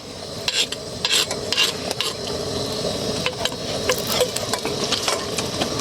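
An egg frying in oil in a pan, with a steady crackling sizzle and occasional scraping clinks of a utensil against the pan, close and continuous.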